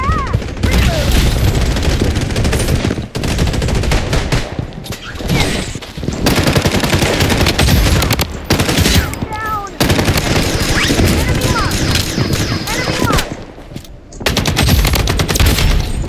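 Rapid bursts of RPK machine gun fire in the shooter game Blood Strike, loud and close, repeated in several long volleys with short gaps between them and some faint talk underneath.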